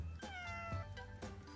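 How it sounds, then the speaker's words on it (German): A cat in a hidden-object video game gives a few drawn-out meows that rise and fall over steady game music and background hum. "Es macht sogar Mau."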